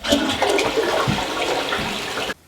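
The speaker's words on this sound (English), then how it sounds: "Yeah, that looks safe to flush." A toilet flushes with a loud, close rush of water that swirls steadily for about two seconds and then stops abruptly.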